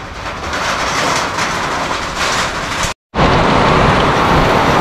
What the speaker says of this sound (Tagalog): sinasabi ko, lakas ng ulan